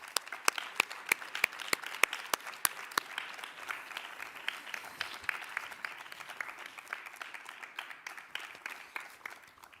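At a sports awards evening in Akureyri, a crowd applauds a figure skater, with a few crisp, close claps standing out over a sustained, moderate wash of clapping that keeps going throughout.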